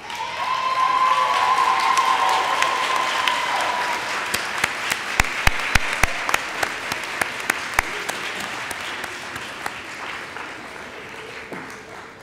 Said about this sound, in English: give your parents, grandparents, brothers and sisters, aunts, uncles, spouses, children, and other loved ones a big round of applause